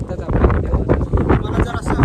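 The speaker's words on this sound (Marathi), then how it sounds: "कारण आता खूप वारा सुटला आहे" Strong wind buffets the microphone in a steady low roar on a hill in Thane, with a voice talking over the gusts.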